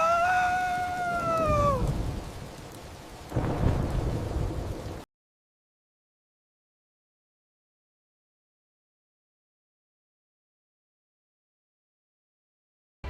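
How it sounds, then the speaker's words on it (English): Cartoon thunderstorm with a rumbling roll of thunder and rain for about five seconds, opening under a rising whistly howl of wind, with a second thunder burst midway, then sudden silence. "But the storm is too strong!"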